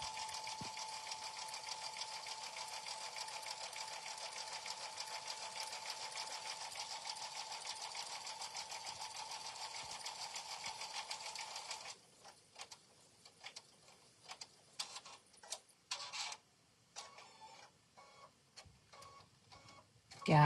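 Home single-needle sewing machine stitching a freestanding design at a slow speed, a steady fast mechanical ticking hum for about twelve seconds, then stopping and giving way to scattered faint clicks and handling noises.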